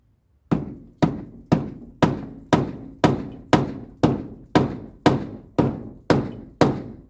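A hammer strikes a metal piece on the door of an outdoor stove, thirteen sharp, evenly spaced blows about half a second apart, each ringing briefly and decaying, loud and close with no talk.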